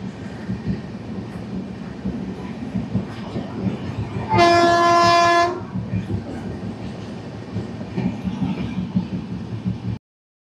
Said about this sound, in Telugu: సో ఇంజన్ హార్న్ చాలా గట్టిగా అయితే వినిపిస్తూ ఉంటుంది